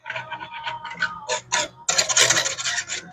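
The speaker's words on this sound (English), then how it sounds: "we're just going to keep stirring this" A whisk scrapes and rasps against a pot of apple pie filling on medium heat, in quick irregular strokes that grow denser and louder toward the end.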